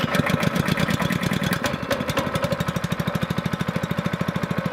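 A small log splitter engine, just pull-started, runs roughly at first and then settles into a steady, fast, close chugging idle with no voices.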